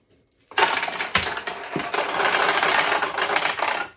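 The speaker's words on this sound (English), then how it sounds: "you notice the balls run right out into my hand" Metal balls from a 1974 Nishijin pachinko machine pour out of the ball dump in a dense, rattling clatter. The close, continuous cascade runs for several seconds, then tapers off.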